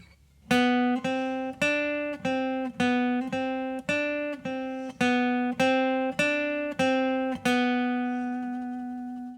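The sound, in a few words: guitar playing a slow three-note lick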